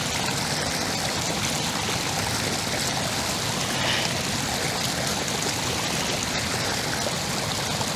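Maranong Falls in Natividad, Pangasinan, a steady rushing roar of flowing water, continuous and fairly loud with no break.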